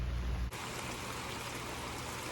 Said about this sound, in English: it's a rainy day in the garden